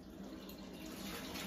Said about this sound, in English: I'm just going to take this asparagus off and run cold water on it.